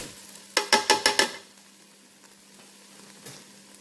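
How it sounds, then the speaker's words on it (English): Rinsed jasmine rice, one and a half cups, tipped into a hot pan to toast, giving a quick run of five sharp rattling, sizzling bursts followed by a quiet low sizzle. "put our rice in, because I want to kind of toast that rice before I start it to cooking"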